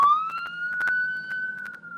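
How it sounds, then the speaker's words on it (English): Police car siren wailing outside, a steady rising-then-level electronic tone that holds for the full stretch, moderately loud and slightly distant, with bursts of other street noise breaking through. "Look, them probably following the same little sirens."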